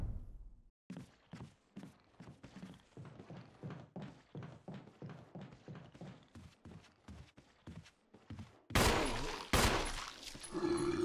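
Gunfire in the video game Resident Evil 1, a long run of sharp, regular thuds and shots near the player, ending in a louder, denser burst of game noise.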